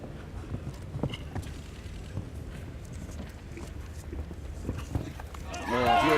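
Horse hooves galloping during a show jumping round at the FEI Nations Cup final, a steady rhythmic thudding of hoofbeats under continuous commentary, with crowd swelling at the end.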